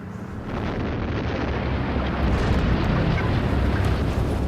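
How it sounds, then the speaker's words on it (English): Underground blast used for explosion welding, more than half a mile down: a loud, sustained roaring rumble that swells and holds steady for several seconds, with no speech. "It's called explosion welding."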